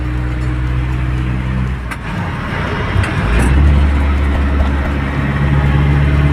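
Nissan Big M single-cab pickup truck driving along, its engine a steady close drone with low rumble that swells slightly midway, no voices.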